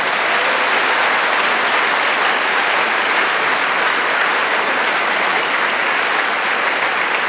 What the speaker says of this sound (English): that applause was for you and your ancestors.